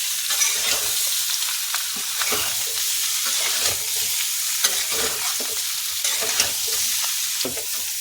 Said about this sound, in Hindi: अब इसमें मिर्ची कुटी हुई डाल देंगे। इसको भी मिक्स कर देंगे।